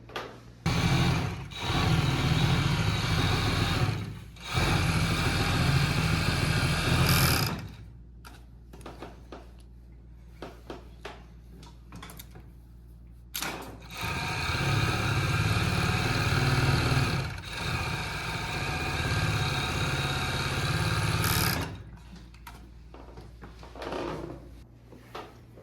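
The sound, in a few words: overlock sewing machine finishing a blouse's side seams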